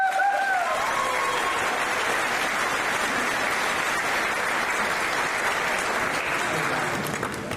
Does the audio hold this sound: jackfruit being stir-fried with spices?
no